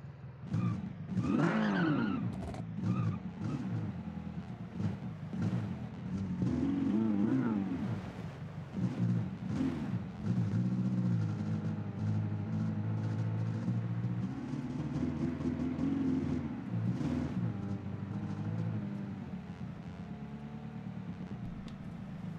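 A custom-built car in the video game Automation drives with a rising and falling engine note, tires squealing and skidding through turns, loud and continuous with no talk.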